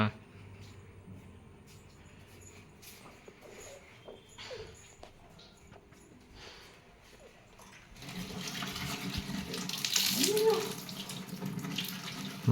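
Water runs from a tap as banana leaves are washed: quiet handling noises at first, then a steady loud gush of running water in the second half, with people speaking.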